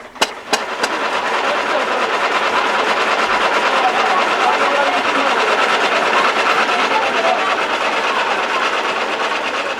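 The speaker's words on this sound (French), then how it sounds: "une plateforme multifonctionnelle constituée d'un moteur diesel" A diesel engine driving a multifunction platform in Mali, with a cereal mill among its machines, runs at a loud, steady drone after a couple of sharp knocks at the start.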